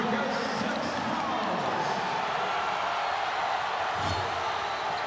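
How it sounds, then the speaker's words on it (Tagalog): Ginebra fans roaring at a PBA Philippine Cup basketball game against ROS, a loud sustained arena crowd wash with whistles, under a commentator talking. "listen to this Ginebra crowd roar"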